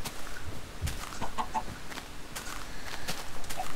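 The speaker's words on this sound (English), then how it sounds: "Okay, I'm hitting a chicken." Chicken clucking from the video game Minecraft, a few short clucks scattered over a steady game background, moderately loud and close, with no talk over them.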